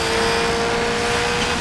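Subaru Impreza rally car in a DIRT 5 racing game, a steady loud gravelly engine drone held throughout, close and continuous.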